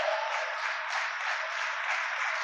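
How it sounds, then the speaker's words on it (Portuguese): A church congregation applauds during a sermon, with dense, steady clapping from a crowd that holds at an even level throughout, no voices heard over it. "E eu aplaudi a Jesus se eu fosse você"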